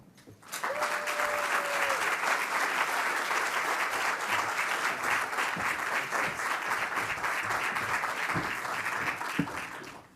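A crowd at a building grand opening applauds for a speaker, sustained dense clapping that starts abruptly and holds steady for about ten seconds with a brief tone and scattered sharper claps near the end.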